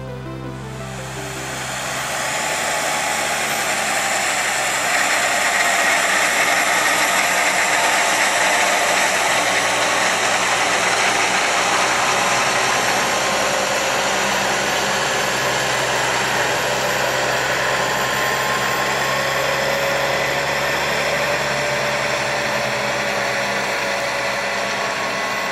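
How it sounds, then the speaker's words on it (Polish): A 250 hp Deutz Fahr tractor hauling a full slurry tank with a strip-till applicator sunk 30 cm into the soil, its engine droning loud and steady under load for the whole stretch after a quick rise at the start. "250-konny Deutz Fahr z pełną beczką i zagłębionym na 30 cm agregatem poruszał się maksymalnie z prędkością od 4 do 6 km na godzinę."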